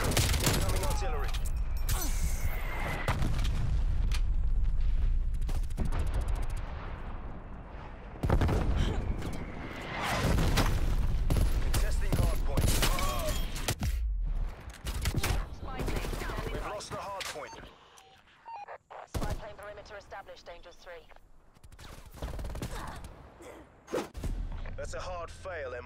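Incoming artillery and heavy gunfire in Call of Duty: Black Ops Cold War Hardpoint, with loud repeated blasts, rapid automatic fire and whooshes over a shifting battle, and a radio voice announcing alerts through the chaos.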